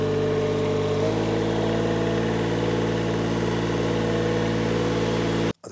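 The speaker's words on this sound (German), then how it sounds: "Und so fahre ich ab und zu mal mit meinem Greensmaster über meine Rasenfläche rüber." The engine of a Greensmaster greens mower runs steadily up close, a loud continuous mid-low drone that deepens slightly after a second, then cuts off abruptly near the end.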